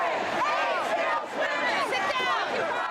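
A protest crowd outside Trinity Church in New York in 1988, a loud, dense mass of shouting and chanting voices that rises and falls continuously at close range.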